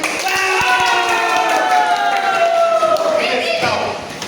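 A classroom of children clapping together on the teacher's cue, a dense sustained patter of many hands with tonal voices mixed in, fading slightly at the end.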